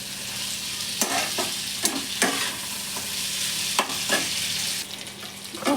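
Masala chicken frying in a pan on raised gas heat, a steady hiss of sizzling broken by several sharp scrapes and clacks of a spoon stirring the pieces, close and fairly loud, with no voices.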